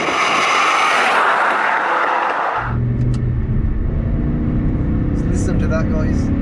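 A BMW E60 M5 with its V10 drives along, first a loud airy rush of road and wind noise, then a deeper steady engine rumble with someone talking over it.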